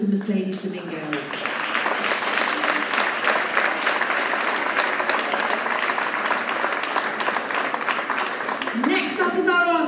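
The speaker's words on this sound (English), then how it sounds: "if you could give a round of applause to Mercedes Dominguez" Audience applause at a school prize giving, loud and sustained for most of the stretch, with a voice speaking briefly at the start and again at the end.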